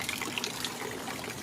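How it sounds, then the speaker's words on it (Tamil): Floodwater from heavy rain in Saudi Arabia flows and trickles steadily, a continuous close watery rush with no talking. "சார் ஃபுல்லாக தண்ணி, எப்படி ரோடும் தண்ணியும் ஒன்றா இருக்கு."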